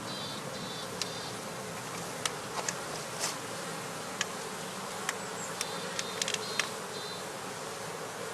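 Honey bees buzz steadily around skep hives, a dense continuous hum with several individual bees zipping close past at intervals, some sharp brief passes standing out above the swarm.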